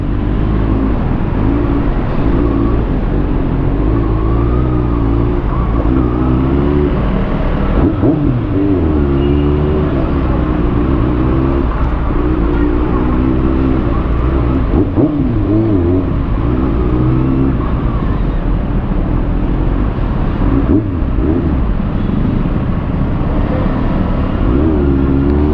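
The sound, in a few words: traffic noise with cars revving at rush hour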